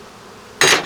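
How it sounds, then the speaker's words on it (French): A single sharp knock as a beekeeper strikes a hive's cover board to shake bees off, a short loud impact after a quiet moment. "voilà, je vais le claquer."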